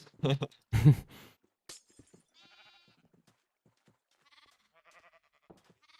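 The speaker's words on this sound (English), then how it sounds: "I hear animal noises. Yeah, those are the sheep I put upstairs." A couple of short Minecraft sheep bleats ring out near the start, followed by faint scattered electronic tones and quiet gaps.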